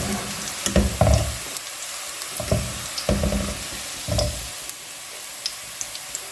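Sliced onions fry in hot oil toward golden brown, a steady soft sizzle broken by a few louder scraping clatters of a spoon moving them in the pan, with no talking.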